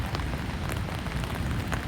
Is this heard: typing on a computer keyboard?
no